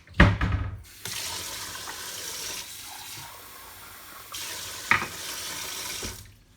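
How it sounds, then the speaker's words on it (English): Kitchen tap water runs into a cup while making chai, starting and stopping twice with a steady rushing flow and brief clatter at each start, no talking. "then I'm going to get half a cup of water"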